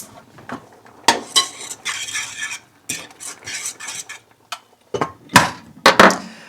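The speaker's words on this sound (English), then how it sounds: "once in a while, I stir up the rice" A spoon scrapes and clinks against a pot of rice in irregular bursts of stirring, close up, with short pauses between strokes.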